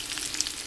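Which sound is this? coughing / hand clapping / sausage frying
sausage frying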